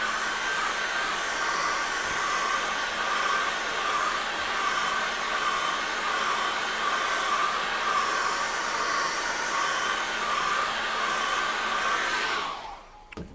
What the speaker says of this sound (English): Again, let's get the hairdryer on this.